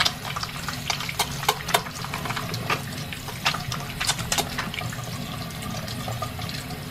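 An old, roughly fifty-year-old bar of soap is worked into a lather with water, giving irregular wet squelches, drips and small splashy clicks over a soft running-water background.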